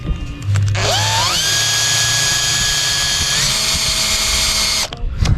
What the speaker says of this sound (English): gonna drill.